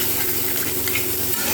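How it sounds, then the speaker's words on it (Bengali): Spice paste with salt and turmeric sautés with a splash of water in a pan, a steady close sizzle and bubbling hiss with faint stirring scrapes throughout, no voices. "মশলাটা যাতে পুড়ে না যায় ওর জন্য কিন্তু আমি একটু সামান্য জল দিয়ে মশলাটা কষিয়ে"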